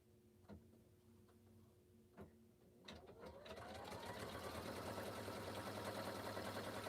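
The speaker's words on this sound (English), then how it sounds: "But it's going to start stitching." An embroidery machine stitching a wallet starts with a few separate clicks, then settles into a fast, steady, whirring stitch rhythm that runs on continuously, close by and moderately loud.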